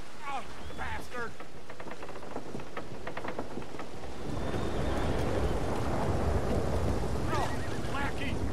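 Rain falling in Red Dead Redemption II, a soft hiss that swells into a dense, louder downpour halfway through, with brief chirping and clicking sounds over it early on.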